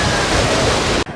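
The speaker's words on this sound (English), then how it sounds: "there's another big wall" Large ocean waves crash at Morro Rock, a loud, close wall of rushing surf and spray that roars steadily before cutting off abruptly near the end.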